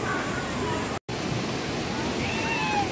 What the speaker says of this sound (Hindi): और पानी का फ्लो भी आप देख सकते हैं, ये बहुत ही हाई है।